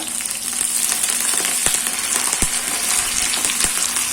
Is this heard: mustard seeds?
yes